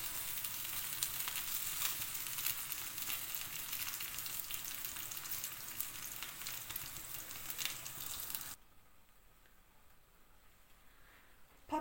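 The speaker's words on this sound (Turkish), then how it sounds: "patlıcan çok yağ çektiği için kızartana kadar ara ara birer yemek kaşığı kadar ayçiçek yağı ekledim üzerine" Eggplant slices fry in sunflower oil, giving a steady close crackle and sizzle that drops abruptly to a quieter hiss near the end.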